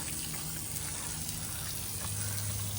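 Water gushing steadily out of a Yamaha outboard boat engine being flushed during cleaning, a close, continuous splashing spray with a faint low hum beneath it and no talking.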